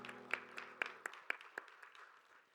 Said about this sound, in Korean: 박수로 서로를 격려하겠습니다.